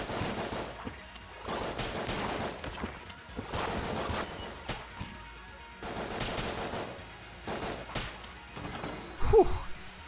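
Rapid gunfire and ricocheting bullets in the Enter the Gungeon video game come in dense, repeated bursts throughout, fairly faint and steady, with a heavier thud near the end.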